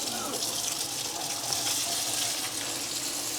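Cold water runs steadily from a kitchen tap over green beans, a continuous close splashing gush with no pauses.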